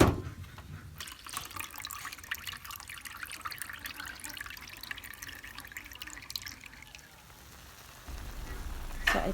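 Coconut milk strained by hand in a provincial kitchen, a continuous trickle and patter of liquid pouring through a strainer into a container, close and fairly quiet, with a louder splash near the end.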